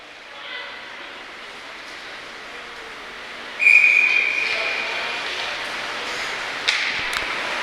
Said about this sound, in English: we're going to get a whistle and a timeout